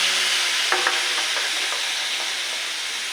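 Hard vegetables sauté in a pan already holding chicken liver for chop suey, a steady bright sizzle with a few light stirring clicks and scrapes, close and continuous with no talk.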